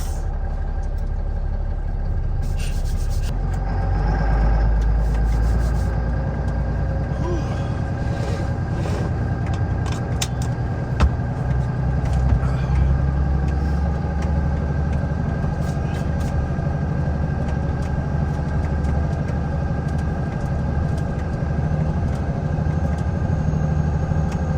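LMTV military truck rolling down the road, a low continuous diesel drone and road rumble heard from inside the cab, steady and moderately loud throughout.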